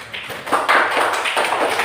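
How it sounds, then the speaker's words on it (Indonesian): Students in an Indonesian classroom give a short round of clapping for a classmate, a loose scatter of hand claps and taps heard close by with a roomy echo. "tepuk tangan dulu ke Rizky."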